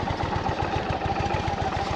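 Motorcycle engine running near a crash site outside Brno, a steady rhythmic idle chugging with clattery mechanical texture, loud and close, with no talk over it.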